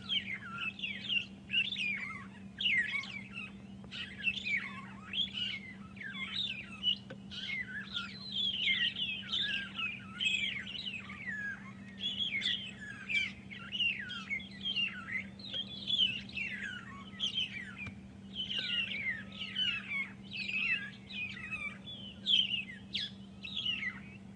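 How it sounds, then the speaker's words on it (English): Repeated bright, whistled calls of magpie shrikes in overlapping phrases fill the air steadily during a morning safari drive at Djuma Game Reserve, over a low constant hum in the background. "mostly only during rains that we hear the magpie shrikes"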